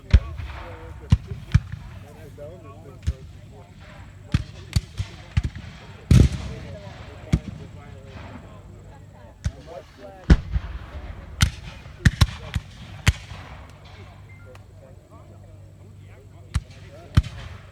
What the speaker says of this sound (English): We provided support and covering fire for the skirmishers.